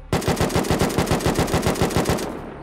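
Rapid automatic gunfire in the video game Unturned, a steady burst of about a dozen evenly spaced loud shots lasting over two seconds and then stopping, with no talk.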